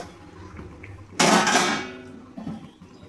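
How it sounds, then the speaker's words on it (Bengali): A metal lid lifted off a pan of dry chili chicken gives one sharp clank, then a brief rush of sizzling and a softer knock, close and clear. "এবার আমি ঢাকাটা খুলে দেখে নেব।"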